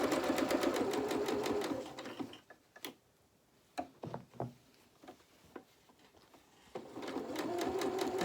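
A sewing machine top stitching the waistband of a pair of jeans, a steady rapid clatter at the start and end with a quieter gap of handling and clicks in between, close and with no talking.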